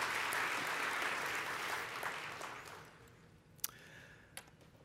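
Warm applause at a scientific society's awards plenary, broad clapping that fades gradually, leaving a few scattered claps and a sharp click near the end.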